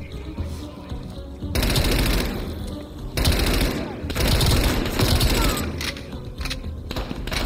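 Dense automatic gunfire and bursts from a Call of Duty: Cold War firefight, loud and sustained, with heavy volleys and booming impacts, while voices shout over the combat.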